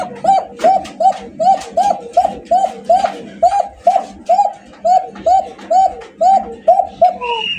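Pigeons coo at a pigeon sale in a steady run of rhythmic, close calls about every half second, with faint background chatter and a brief higher squeak near the end.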